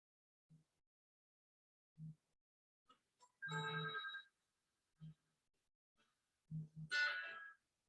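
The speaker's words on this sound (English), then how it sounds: "Sorry about the phone ringing." A telephone rings in a quiet room during a guided meditation, several short bursts spaced across the span, faint and at a distance, with a brighter chirp near the end and no talking over it.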